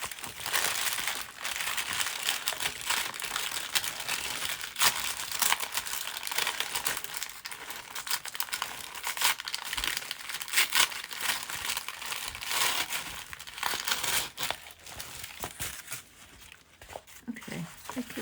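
Paper napkins are peeled off wax paper in a long run of close crinkling and tearing rustles, irregular and continuous, with faint background noise.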